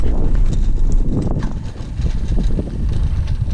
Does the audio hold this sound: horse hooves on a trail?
yes